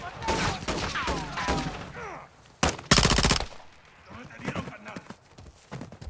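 Bursts of automatic gunfire in a Call of Duty Modern Warfare 3 firefight, with a loud volley near the middle and horse hooves and shouted voices around it.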